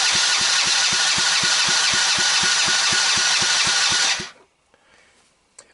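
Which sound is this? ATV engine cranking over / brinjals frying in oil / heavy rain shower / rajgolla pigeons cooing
ATV engine cranking over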